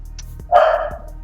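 An eight-year-old blind Boykin Spaniel gives a single sharp, fairly close bark over a low background hum.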